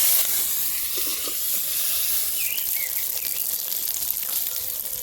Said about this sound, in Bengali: এবার বেগুনগুলো একটু ভেজে নিচ্ছি মাছগুলো তেলেই ভেজে নিচ্ছি